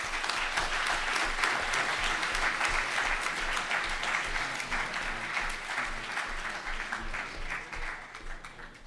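A hall of model UN delegates at a general assembly applauds a passed resolution, dense clapping holding steady for several seconds before easing slightly near the end.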